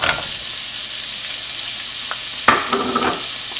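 Capsicum fries in a pan for chilli chicken, a loud continuous sizzle with a few stirring scrapes near the end.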